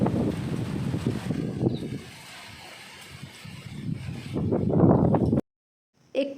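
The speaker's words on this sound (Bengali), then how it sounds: "একটু বাতাস উঠেছে" Gusts of wind buffet the microphone outdoors at a scenic spot in Jodhpur, rising and falling in loud rushing bursts before a brief silence and a short final gust.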